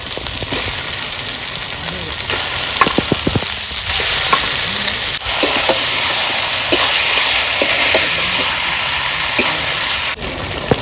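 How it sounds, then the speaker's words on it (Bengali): Meat frying in spiced oil in a pan, a loud continuous sizzle with scattered stirring clicks and scrapes, while a person talks over it. "মশলা কষানো হয়ে গেছে এবার মাংস দিয়ে দেবো"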